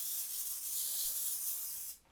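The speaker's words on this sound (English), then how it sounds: "I'm gonna lightly spray with nonstick spray." A can of nonstick cooking spray gives a steady, close airy hiss for about two seconds over a parchment-lined tray, then cuts off abruptly.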